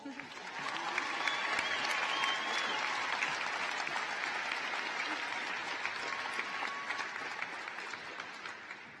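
Sustained applause from a high school graduation audience fills the hall, a steady dense wash of clapping that holds for several seconds and eases slightly toward the end.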